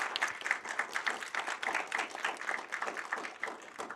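An audience gives a round of applause at a comics event, many hands clapping in a dense, steady patter that holds evenly throughout, with no voices over it.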